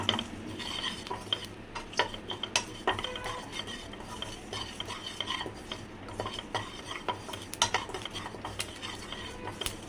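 Flax seeds rattling and scraping in a metal pan as a utensil stirs them repeatedly while roasting, with faint crackling underneath, close and busy.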